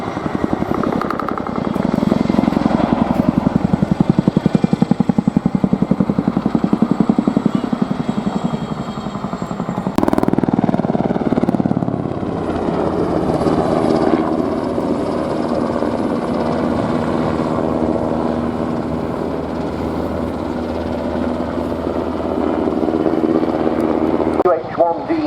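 A Chinook helicopter at an air show flies a max performance climb, its loud, throbbing rotor roar close at first and then shifting in tone as it pulls away, while an announcer talks over it.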